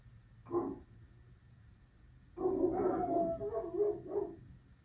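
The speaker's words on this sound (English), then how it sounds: "There those dogs go, just shouting away." Dogs bark from some distance: one short burst, a pause, then a longer run of overlapping barks and yips lasting about two seconds, moderately faint, with no talking.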